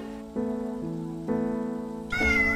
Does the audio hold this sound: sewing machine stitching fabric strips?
no